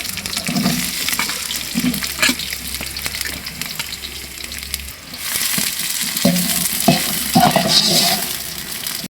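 Onions frying in oil in a pan for Tamil-style mutton biryani, with steady sizzling and repeated scraping stirs; the sizzle swells louder after a brief lull midway.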